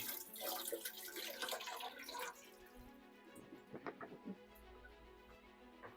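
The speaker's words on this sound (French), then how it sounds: "Allez, un coup sous l'eau, la galette de riz." Rice paper wrapper held briefly under a running tap of lukewarm water, a soft splashing stream followed by faint drips and handling noises, close and quiet.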